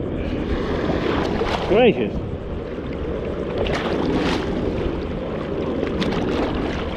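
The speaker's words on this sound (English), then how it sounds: "Look at them giant waves for the bay." Large waves rolling through a bay at Ocean View, a continuous rough wash of water and wind noise, with a voice speaking briefly over it.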